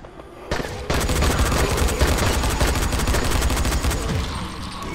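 Sustained automatic gunfire in the zombie game Dying Light: a dense, loud, rapid burst that starts abruptly and keeps hammering without pause to the end.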